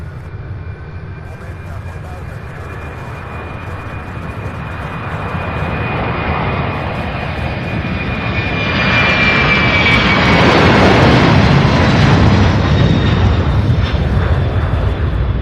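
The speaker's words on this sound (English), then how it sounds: "This one's going to turn and burn. Here she goes. First outbound UPS flight of the day." A UPS cargo jet taking off from Louisville International Airport at the UPS Worldport builds from a steady whine to a loud, close, rumbling roar that swells and peaks in the second half.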